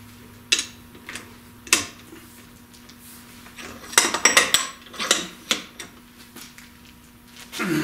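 A 1 5/16 inch socket fitted to the rear axle nut of an MGB with a tube-type axle, giving sharp metallic clinks and clanks, scattered at first and then a quick clustered run of taps, with no talking.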